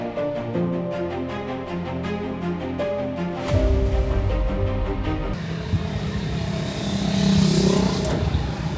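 An air-conditioned Grab taxi car engine hums and revs during a ride, with a rising tonal whine early on that gives way to a rougher, louder rumble of road and engine noise.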